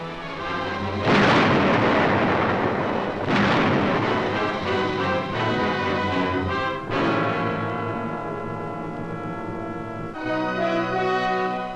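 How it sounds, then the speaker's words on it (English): Heavy high-explosive blasts destroying fortress caves on Iwo Jima, several deep, loud booming detonations that each roll and rumble away, with a steady rumbling din between them. "Their fortress caves, saturating the island, are wiped out by high explosive."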